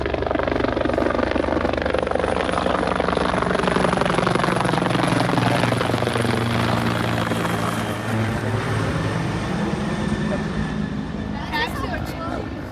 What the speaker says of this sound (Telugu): ఎవరో మొత్తం పైనంతా కూడా ఫుల్ హెలికాప్టర్స్ అవి ఇవి తిరుగుతున్నాయి.